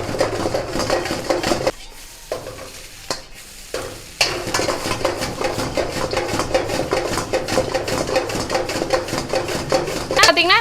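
Capsicum tossed in a kadai over a high flame: a loud, dense, continuous sizzle with rapid clattering tosses and metal scrapes, briefly dipping twice before surging back close and busy.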